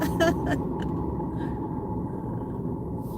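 Steady low rumble of a car on the road during a commute, broad engine and road noise filling the whole stretch, with a few brief higher clicks and rattles early on and no talk over it.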